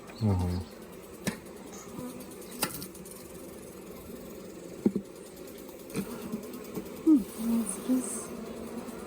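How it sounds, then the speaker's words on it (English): Steady buzzing of many honey bees swarming close by during a hive inspection, with a few brief knocks and a voice murmuring now and then. "Keep going, bees."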